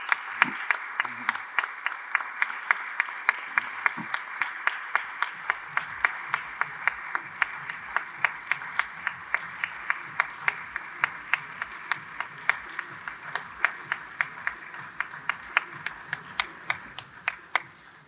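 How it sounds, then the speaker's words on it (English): Applause fills a general assembly hall after people are asked to stand, a broad steady clapping from a large audience with a few sharper individual claps standing out, while faint voices murmur underneath early on. "That is a natural round of applause for you"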